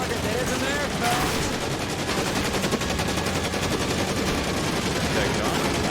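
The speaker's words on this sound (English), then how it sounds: "That gun sound." Rapid video game gunfire rattles almost nonstop at close range during a police chase game, bursts overlapping in a dense, loud stream with engine and action noise beneath.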